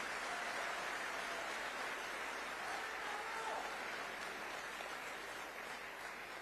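An audience claps steadily and densely at a public event featuring Chief Minister Chandrababu Naidu, the applause a continuous wash of many hands with no pauses across the span.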